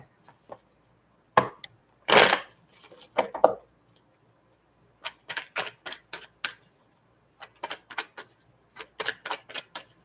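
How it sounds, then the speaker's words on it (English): Tarot cards shuffled by hand at close range, giving irregular bursts of soft riffling and sharp little clicks and snaps separated by short pauses, with no talking. "Why am I having hell shuffling these cards?"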